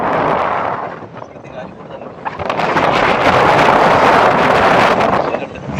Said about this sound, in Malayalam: നല്ല കാറ്റുണ്ട് കേട്ടോ. നല്ല കാറ്റാ.